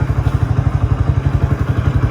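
Close, loud motorcycle engine with a steady rapid thumping pulse, running continuously throughout.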